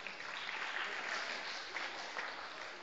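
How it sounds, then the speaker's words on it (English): Dense crowd applause at a service project meeting, a loud continuous wash of many people clapping together, steady for the whole short stretch. "Yeah, you can clap for that."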